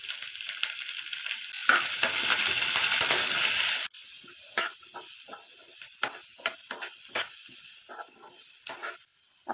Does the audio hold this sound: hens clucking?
no